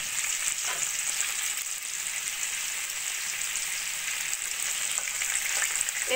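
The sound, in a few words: eggplant slices frying in a pan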